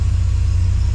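An MGB's engine idles just under 1,000 rpm after an Ignition123 distributor is fitted, giving a steady, close, low rumbling throb with no voices, cut off after about a second.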